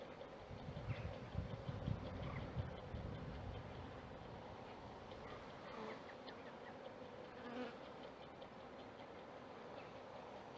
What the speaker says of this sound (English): And now we can shake the sugar.